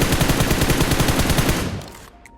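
Rapid automatic gunfire rattles in a steady burst for about two seconds in PUBG Mobile, loud and close, then cuts off and fades into a quiet tail with faint game tones.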